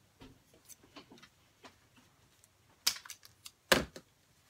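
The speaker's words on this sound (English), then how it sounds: "use a pair of scissors to cut off the excess." Scissors snip off the excess tail of a tightened zip tie on a handmade doll: faint rustling handling, then two sharp, close, clicky snaps standing out against quiet room tone, with no talk.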